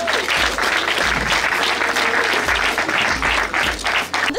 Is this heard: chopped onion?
no